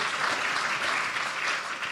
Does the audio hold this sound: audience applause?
yes